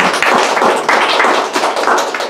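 Church congregation applauding: a short, close burst of sharp hand claps with uneven rhythm, loud and without talk.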